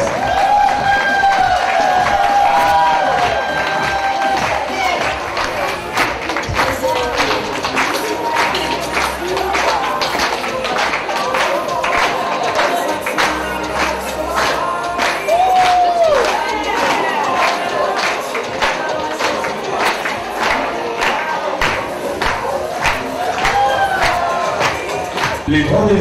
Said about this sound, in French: On va vous acclamer, vous applaudir très fort pendant que vous faites les tours pour libérer